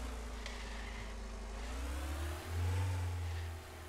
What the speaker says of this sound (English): Okay, we got our ute in here as well. Let's drive this out of here.